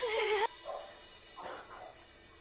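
A dog whimpering and yipping in a comedy film scene, short soft whines and a brief yelp over a sustained tone at the start, with faint background noise and no clear barking.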